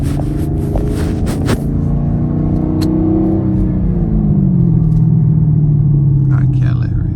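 Straight-piped Chevrolet Camaro SS rumbling loud and steady while driving, the exhaust note shifting down in pitch midway as it cruises, with a deep continuous drone throughout.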